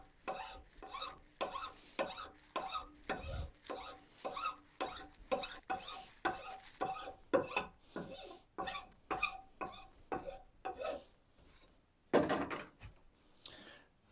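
Hand tool rasping over a wooden corner to round it off, a series of rhythmic scraping strokes roughly every half second, close but fairly quiet.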